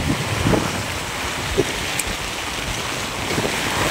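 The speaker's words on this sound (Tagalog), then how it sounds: "Takas pa ang ulan no." Steady rain hisses continuously, with a few faint knocks and splashes nearby and no voices.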